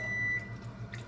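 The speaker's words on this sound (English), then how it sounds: "that's the sound of my oven" An oven beeps once in a home kitchen, a single bright tone held for a moment over a low steady hum, then fades to quiet background noise.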